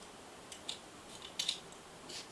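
Paper being cut with a circle cutter while making a mini zine, a few faint, short snipping scrapes spaced irregularly over a quiet background.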